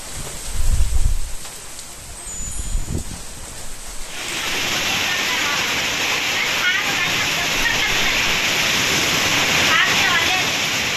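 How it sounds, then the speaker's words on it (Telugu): A heavy thunderstorm downpour during Cyclone Remal over the Telugu states begins after a few deep low rumbles, then settles into a dense, steady roar of rain that continues to the end. "ఉరుములతో కూడిన వర్షం పడుతోంది."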